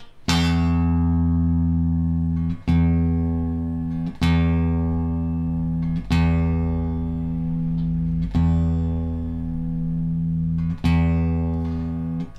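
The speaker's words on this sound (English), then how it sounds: "So I'm going to play that string and start turning it down." A guitar string is plucked six times at steady intervals while being tuned down. Each note rings out loud and clear, then slowly decays before the next pluck, with no talking.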